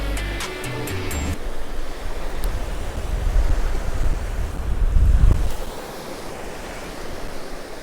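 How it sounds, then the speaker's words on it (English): Gusty wind buffets the microphone on Cromer Beach as waves wash in, rising to a loud rush midway before easing; no one speaks. "It's very windy today"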